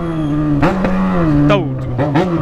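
Yamaha XJ6 motorcycle revving hard, its engine pitch rising and falling in a few bursts with sharp pops and crackles from the exhaust, close and loud, with a voice over parts of it.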